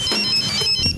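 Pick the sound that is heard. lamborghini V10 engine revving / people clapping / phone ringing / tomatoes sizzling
phone ringing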